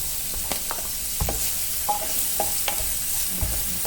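Chopped onion sizzles steadily in oil in a pan, with soft clicks of a spoon stirring at intervals over a constant frying hiss.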